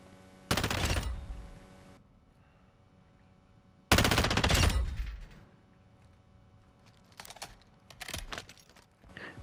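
Two long, loud bursts of rapid FAMAS rifle fire from a Call of Duty DMZ match on Ashika Island, separated by quieter gaps, then a few shorter shots and clicks near the end.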